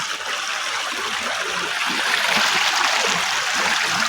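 A stream of water flows steadily after a storm, a continuous close rushing and gurgling that holds an even level throughout, with no voices.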